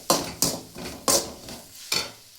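Garlic cloves stirred and frying in a pan for a drumstick stir-fry, heard as five sharp scraping strokes of the spoon against the pan over a light sizzle, close and fairly loud with no talk.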